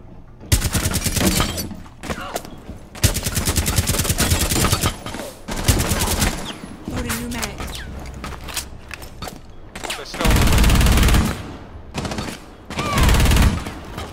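Dense, rapid gunfire from the Rainbow Six Siege video game in a team deathmatch on the Kafe map. Loud bursts and sustained automatic volleys fill the clip, with brief lulls and occasional mechanical clicks.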